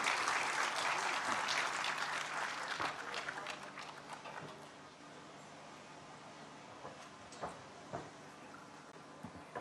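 An audience applauds at a school opening ceremony in Hatay, a loud burst of clapping that gradually thins and fades into scattered claps and room noise.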